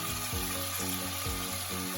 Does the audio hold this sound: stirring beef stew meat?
yes